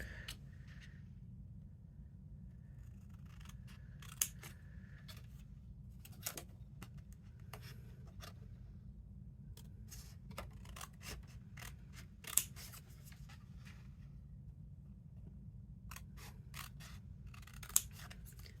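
Scissors cut out paper squares for a handmade card with a long run of quick, crisp, close snips, a few sharper clicks standing out, over a low, steady background hum and no talking.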